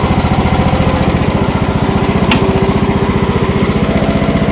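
A John Deere L100 riding lawn mower engine runs steadily and loudly up close, a continuous chugging drone with a fast regular pulse and no speech.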